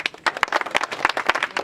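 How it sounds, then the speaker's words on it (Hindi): Audience clapping at a gathering of a Maithili and Angika artists' association, a dense run of sharp hand claps close by with no talk over it. "इनके लिए ताली बजा दीजिए एक बार।"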